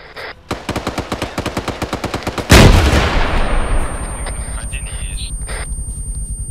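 Gunfire in the ArmA 3 video game starts with an evenly spaced burst of loud machine-gun shots close by. A heavy blast follows, and its rumble tails off under lighter, steady clatter.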